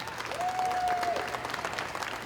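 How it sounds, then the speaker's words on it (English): An audience at the National Home Show claps in steady sustained applause, a dense even patter filling the room, with a faint whistle-like tone briefly above it. "Let's hear some applause"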